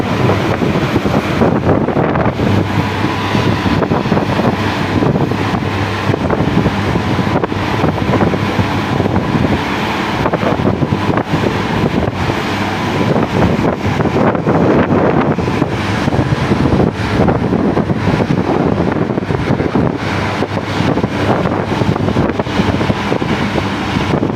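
Constant roaring wind buffets the microphone on a ferry deck off Corfu, a dense rushing noise with a low engine-like rumble and faint water wash beneath.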